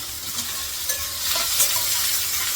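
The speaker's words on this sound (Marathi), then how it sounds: "कांदा टाकते कांदा नंतर टाकला इथं टाकत ते टमाटा पण टाकून देते" Onion and tomato frying in a hot pan, a steady crackling sizzle that grows slightly louder partway through, heard alone and close with no talking.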